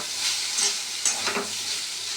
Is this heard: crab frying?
yes